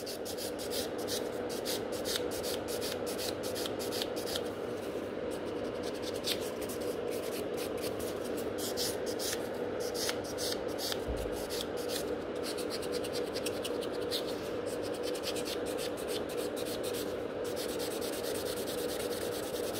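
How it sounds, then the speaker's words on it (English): A 100/180 grit nail buffer rubs back and forth over a gel nail extension, producing steady close scratchy sanding strokes that continue without pause and with no talk. "I can take a buffer and just buff it."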